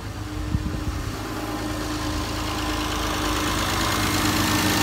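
A Vauxhall Vectra B GSi with a 2.5 V6 idles with a steady, close exhaust burble, a low continuous engine drone that grows slightly louder over the clip.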